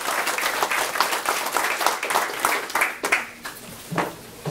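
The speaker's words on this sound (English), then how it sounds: "Let's give him a warm applause." Applause from the audience at a veterans' graduation, a loud dense burst of many hands clapping that thins out and fades in uneven waves near the end.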